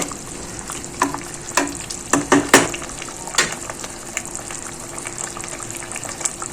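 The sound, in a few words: mutton biryani cooking on slow fire in a pot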